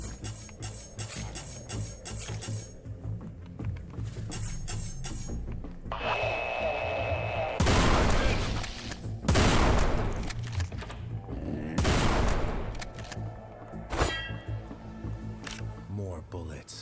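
Gunfire in the retro-style shooter Forgive Me Father, loud heavy blasts coming in a few dense bursts over game music and effects, with a voice talking through much of it.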